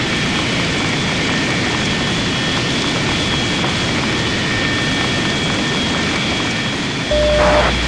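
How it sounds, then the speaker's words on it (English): In the Lock On combat flight game, the right jet engine of an Su-27 spools up. A constant, loud turbine roar with a thin high whine runs unbroken, and a short change in tone comes just before the end. "Okay, starting the right engine."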